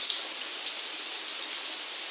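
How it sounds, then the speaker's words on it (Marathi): Heavy rain has been falling steadily for an hour during a windy storm. It makes a dense, even hiss of raindrops with small pattering peaks, moderately distant, with no voices. "तब्बल एक तासापासून पाऊस चालू आहे"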